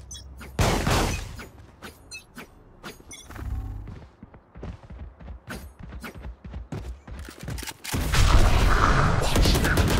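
Gunfire in the video game Valorant on Xbox Series S: repeated sharp shots and bursts, some rapid, with heavier booming blasts near the start and end, loud and close with mechanical clatter between volleys.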